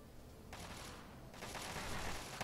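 Gunfire in Fallout, played through the Tale of Two Wastelands mod: two bursts of crackling shots at moderate distance, separated by a short lull, with scattered bangs at the end.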